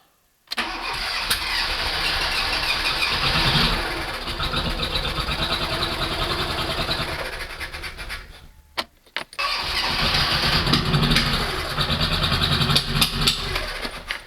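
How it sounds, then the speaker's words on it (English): A car engine with a newly replaced head gasket cranks and catches on its first start, then runs at a steady idle; it briefly cuts out and restarts, continuing to idle loudly and close by. "First start of the engine with a new head gasket."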